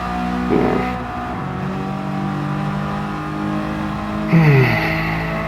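Race car engines in Gran Turismo 7 drone and rev steadily, with rising and falling engine pitch as cars accelerate and shift, loud and continuous without talk.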